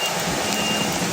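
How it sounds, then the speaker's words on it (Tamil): Heavy rain pours down in Jaffna, a dense, steady hiss of downpour with no let-up, heard close and loud on its own. "ஏன்னா இருக்க மழை பெருக்குது."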